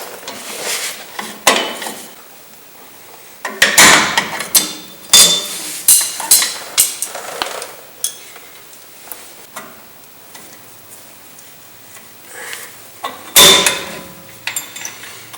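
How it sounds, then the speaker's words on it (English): Brake pliers working a front return spring off the shoe assembly of a Chevy S10 or GMC S15 truck's rear drum brake, giving sharp metallic clanks, scrapes and spring snaps in irregular bursts, close and fairly loud with no talk. "use a pair of brake pliers to remove the front return spring"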